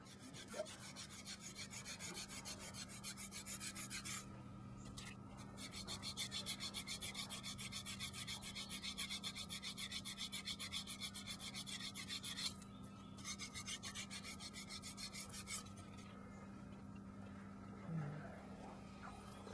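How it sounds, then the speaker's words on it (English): A small engraver's scraper rasps steadily across gold inlay, with faint continuous rubbing strokes over a quiet background hum, pausing briefly a couple of times. "It's my little scraper that I use."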